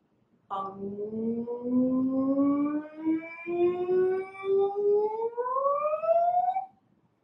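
A single voice glides steadily upward in a long, continuous wail, imitating a police siren, rising from low to high over several seconds.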